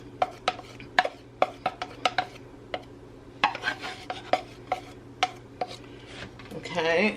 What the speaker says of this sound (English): we're just going to keep mixing until we get it to the consistency that we want